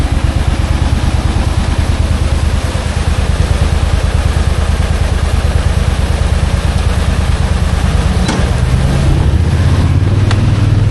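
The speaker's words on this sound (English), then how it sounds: "Got a car coming, hold on." A loud car engine rumbles close by on a rural West Virginia road in rainy season, a steady low drone, then a rising whoosh near the end as the car passes.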